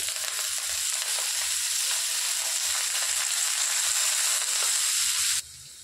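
Slit green chillies and fenugreek leaves frying in a hot pan, making a loud, steady, close sizzle that continues without pause before dropping abruptly to a quieter hiss at the very end.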